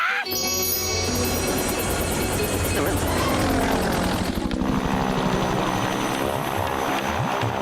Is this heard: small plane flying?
yes